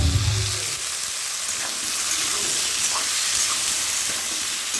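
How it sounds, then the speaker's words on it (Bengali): Shrimp frying in oil in a pan for a taro and potato curry, giving a steady bright sizzle with soft crackles throughout, close and even, with no talking. "চিংড়ি মাছটা ভাজা করে নিচ্ছি।"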